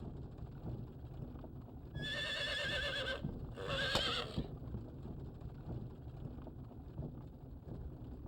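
A horse in the Star Ocean 3 video game neighs twice in a loud, close whinny, with clip-clop hooves and steady background noise as a horse-drawn wagon sets off.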